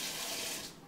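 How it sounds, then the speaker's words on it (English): Water runs steadily from a kitchen sink tap into a salad spinner bowl, a close, even gushing hiss that fades slightly toward the end. "You're going to fill up the salad spinner 3 times with water."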